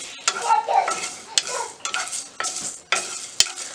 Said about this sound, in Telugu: ఒక స్పూన్ ధనియాలు, ఒక స్పూన్ జీలకర్ర, కొంచెం మిరియాలు, యాలకులు, కొంచెం ఒక స్పూన్ సోంపు, ఒక ఆకు బిర్యానీ ఆకు, దాల్చిన చెక్క వేసుకొని ఫ్రై చేసుకోవాలి